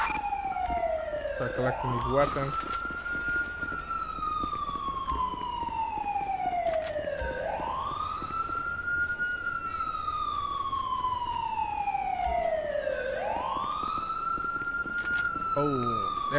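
Wailing police and ambulance sirens from the police game LSPDFR, a rising and falling tone that sweeps in slow cycles about every six seconds, loud and continuous, with a voice talking over it.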